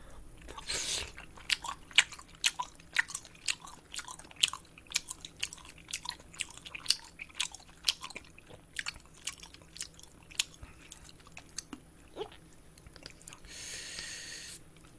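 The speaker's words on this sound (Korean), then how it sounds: "일단 하나씩 먹어볼게요. 떡볶이부터." Tteokbokki is chewed during a mukbang in a rapid string of close, wet bites and chews, with sticky smacking sounds and no talking.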